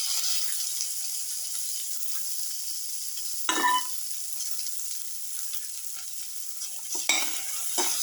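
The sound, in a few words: tomato pieces frying and being stirred in pan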